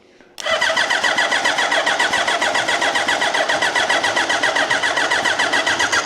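A turbocharged Suzuki Hayabusa motorcycle engine catches after a brief quiet moment and settles into a loud, close, steady running rhythm with even pulsing beats.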